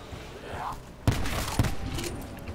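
Rapid gunfire from a fast-firing gun in Black Ops 4 Zombies cracks in two sharp, loud bursts about half a second apart, trailing into a busy rumble of game noise.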